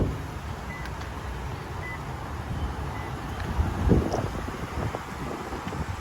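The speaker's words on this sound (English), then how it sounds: "I don't know why it's so windy" Gusty wind buffets an outdoor microphone beside a 2015 Toyota 4Runner Limited with a 4-liter V6, producing steady low rumbling noise that swells into a stronger gust near the middle, with no talking.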